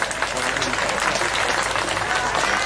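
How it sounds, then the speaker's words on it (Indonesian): An Indonesian gathering claps together in sustained, dense applause with voices and chatter mixed in throughout. "Tepuk tangan semua."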